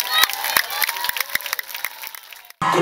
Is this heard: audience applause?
yes